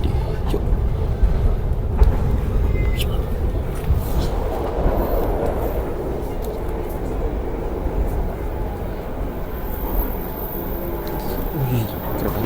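Passenger train Banyubiru rolling on rails through a curve, heard from inside as a continuous low rumble and rattle with faint intermittent clicks, with voices talking nearby at times.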